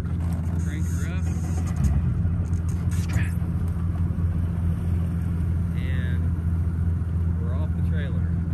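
A boat motor idles and runs steadily at a boat ramp as the boat slips off its trailer, a constant low rumble throughout with a voice talking intermittently over it.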